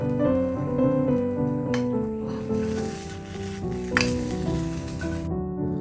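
A slice of bread fries in a pan for Bombay toast, with a steady sizzle throughout, occasional scraping and stirring, and a light utensil clink near the end.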